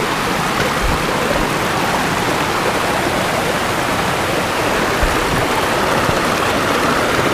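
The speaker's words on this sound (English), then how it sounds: "Check out this waterfall." A waterfall along the Appalachian Trail after days of rain roars as a loud, steady rush of water, close and continuous with no voices over it.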